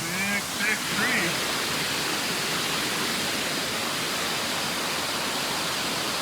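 Blemantung waterfall in Munduk, Bali, Indonesia, pouring in a steady, dense broadband roar that stays close and loud throughout, with a faint voice and brief whistled notes at the very start.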